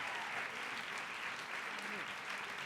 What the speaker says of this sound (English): Some shouts, rounds of applause.